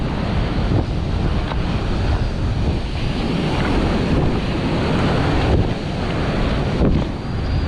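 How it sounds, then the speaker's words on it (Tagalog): Continuous ocean surf and breaking waves at a seaweed-farming spot, loud and close, mixed with heavy wind buffeting the microphone and no talking. "May mga alon dito mga master."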